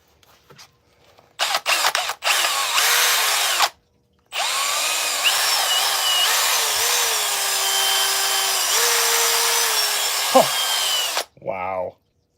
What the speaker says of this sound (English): I can use this epic method from Chills with the drill to clean this out